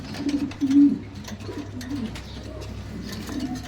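King pigeons from imported and Romanian lines coo close by, with one loud throaty coo early on, then softer murmuring coos over a steady low hum.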